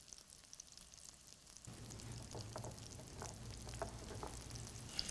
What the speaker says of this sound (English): we roll it into bite-sized balls and brown them in a hot skillet